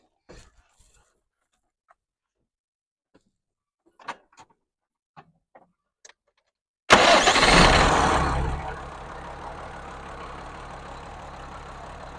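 A tractor engine at an agricultural college in Ordabasy district, Turkistan region, cranks and roars to life after a quiet stretch with faint clicks, then settles into a steady, loud idle. No one speaks.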